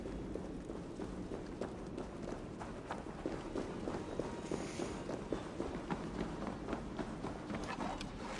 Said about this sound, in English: Thunder. Footsteps.